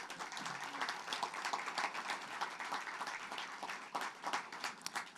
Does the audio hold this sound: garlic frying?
no